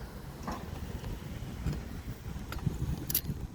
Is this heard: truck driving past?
yes